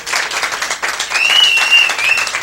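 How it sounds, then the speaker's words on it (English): An audience applauds a singer, with dense sustained clapping from a crowd, loud and continuous, and a high whistle or cheer riding over it midway. "Let's give him a round of applause."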